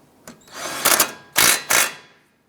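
A power tool tightens a nut on the front hub of a 2001-2007 Ford Escape, a short weak whir followed by three loud, close bursts of whirring with brief gaps.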